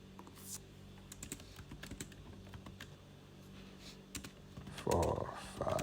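Computer keyboard typing while coding an app, a quiet irregular patter of key clicks close by, with a louder rustle near the end.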